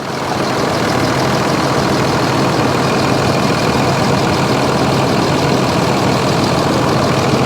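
Cummins diesel in a RAM 3500 stick-shift pickup idles loud and close with a heavy, slightly uneven clatter and rumble, running rough as if down a cylinder, continuous with no talking.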